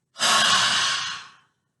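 A single deep breath during a yoga practice, a close, airy exhale that swells quickly and then slowly fades out over about a second.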